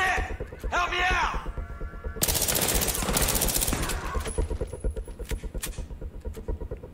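Gunfire in the Battlefield 3 co-op mission Hit and Run on Xbox, with loud bursts of automatic fire over a rumbling game soundscape and voices shouting within the game.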